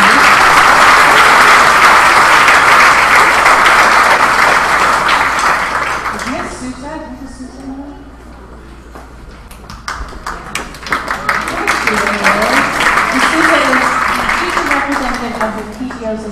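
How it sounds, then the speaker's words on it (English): Loud audience applause fills the room at a school exhibition opening ceremony, many hands clapping steadily before thinning out into scattered claps and faint murmurs. "How about another round of applause for Andy and all the folks in the foundation?"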